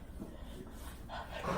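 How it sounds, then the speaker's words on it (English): A dog makes low, faint growling and whimpering sounds close by indoors, building slightly louder toward the end. "Are you growling at me?"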